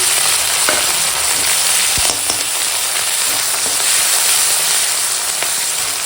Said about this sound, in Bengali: পেঁয়াজ আর কাঁচা লঙ্কাটা এখন সুন্দর করে ভাজা হয়ে গেছে আর এখন দিয়ে দেবো এখানে আছে টমেটো কুচো আর আদা রসুন বাটা দিয়ে দিলাম